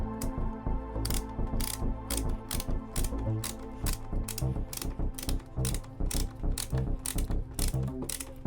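LTT Stubby ratchet screwdriver turning, its ratchet clicking in quick, steady bursts of sharp ticks, close and clear with no talk.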